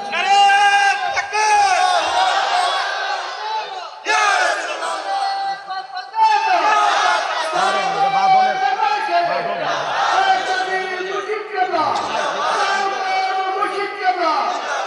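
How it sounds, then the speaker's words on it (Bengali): A large crowd at a religious zikr gathering chants takbir together in loud, rhythmic group shouts, with repeated bursts of voices rising and falling in unison. "জবান খুলে একটা তাকবীর হবে, জবান খুলে তাকবীর দেন"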